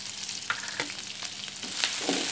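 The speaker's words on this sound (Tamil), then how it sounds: "வெங்காயம் கொஞ்சம் வதங்க எடுத்துக்கலாம்" Onions with a little salt sautéing in a pan for a cuttlefish fry: a steady close sizzle with faint stirring scrapes and clicks now and then, and no voices.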